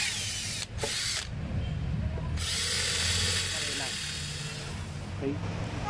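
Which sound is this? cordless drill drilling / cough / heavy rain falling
cordless drill drilling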